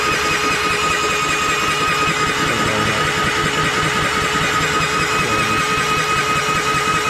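A rebuilt 800S engine turned over on a bench during final assembly to check oil, giving a loud, close, unbroken mechanical churn with even intensity across the whole stretch and no talk.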